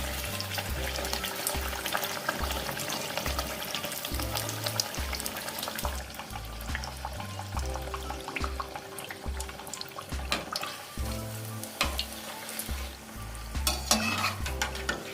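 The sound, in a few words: malpua frying in oil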